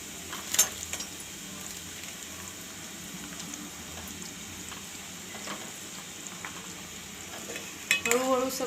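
Fenugreek seeds fry gently in homemade Ayurvedic hair oil, giving a low continuous sizzle and bubbling with a few faint stirring clicks, heard close with slightly louder bursts at the start and end.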